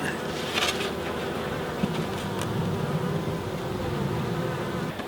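A honeybee swarm hums steadily inside a new hive, the dense buzzing close and continuous throughout, with a few brief louder bee passes near the start.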